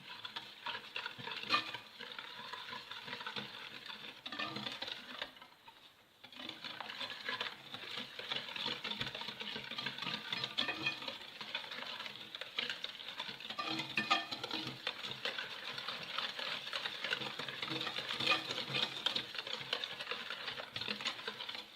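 A spoon steadily stirs a semolina and coconut mixture with sugar for ghryba, giving a continuous gritty scraping and rustling close by that dips briefly near the middle and then carries on.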